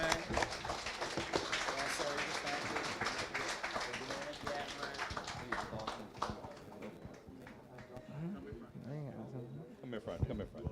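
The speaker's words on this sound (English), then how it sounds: "give everyone a round of applause, man" An outdoor audience at a community forum in a primary school courtyard claps in dense, fairly quiet applause that thins out toward the end, with voices talking beneath it.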